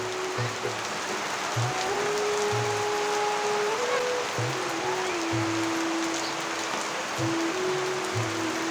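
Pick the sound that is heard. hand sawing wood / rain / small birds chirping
rain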